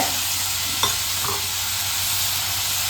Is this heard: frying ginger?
yes